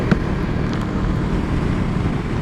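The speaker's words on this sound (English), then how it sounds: "So here, that's windy." Steady low rumbling wind buffeting the microphone, a constant roar with no voices.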